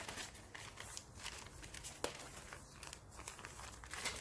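Paper being cut and handled for a junk journal page, a steady soft crinkling and rustling with faint crunchy snips close by, no talking.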